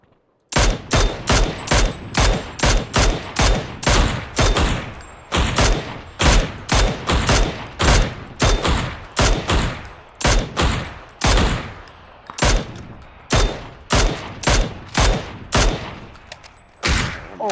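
Rapid bursts of gunfire from a PUBG battle-royale match, dozens of sharp loud shots in quick rhythmic volleys, continuous throughout with brief gaps between clusters, no talk.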